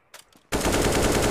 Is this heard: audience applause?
no